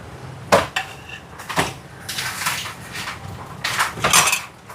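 A metal lid clatters onto an appam pan during cooking, a few clanking knocks and scrapes of cookware at close range, with no talking.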